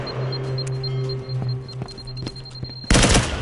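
A triple-burst rifle fires in a VR shooter game, a sharp loud burst arriving near the end after a stretch of quieter thuds, beeps and a steady hum.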